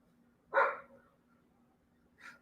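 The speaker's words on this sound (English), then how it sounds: "Here come the dogs." A dog barks once close by in a quiet indoor setting, then a fainter second bark follows about two seconds later.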